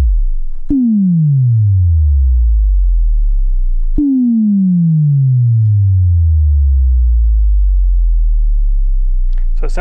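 Two deep, punchy drum-like hits from a restored Multimoog analog synthesizer, each a booming low tone that drops in pitch and decays slowly, spaced a few seconds apart with nothing else around them.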